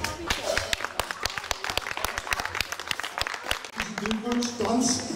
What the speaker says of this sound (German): Ja, vielen Dank für den Beifall.